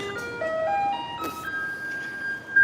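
A garbage truck in Taitung, Taiwan plays its loud melodic jingle, a clear electronic tune of sustained notes stepping up and down over steady street background.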